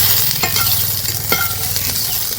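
Ground coriander, cumin, black pepper and dried chilli being stirred into semolina and peas in a hot pan, with a steady sizzle under a few distinct scraping strokes of the spoon against the pan, close and moderately loud.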